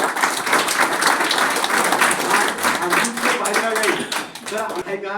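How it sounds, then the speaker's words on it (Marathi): An audience applauds Sharad Dada at a school event where educational supplies are handed out, with dense, sustained clapping and a voice speaking over it toward the end. "खरोखर त्यांच्याबद्दल एकदा आपण टाळ्या वाजवूया."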